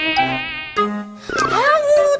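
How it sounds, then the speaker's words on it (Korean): A mosquito whines around a sleeper on an autumn morning in a comedic TV scene, a close, high buzzing in short bursts whose pitch wavers and swoops between pauses. "아니 무슨 가을에 이렇게 모기가 많아"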